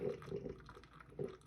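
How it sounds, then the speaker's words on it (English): Maestri House 8-cup drip coffee maker passing hot water through the grounds: quiet, close gurgling and trickling in short bursts. "it's just filtering it through here to go ahead and get that coffee through there"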